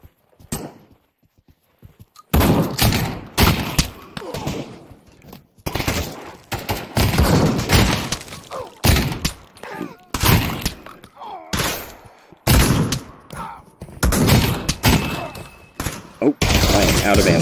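Gunfire in the VR shooter Pavlov VR during a team deathmatch, with rapid loud bursts of automatic shots and single cracks in close succession, under a player's talk and game noise.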